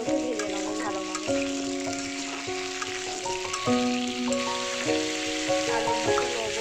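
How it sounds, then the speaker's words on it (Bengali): Potatoes fry in a pan with salt and colouring, giving a steady sizzle beneath a loud melodic background tune, with occasional stirring. "এবার ওই আলুগুলোকে ভেজে নেব ভালোভাবে।"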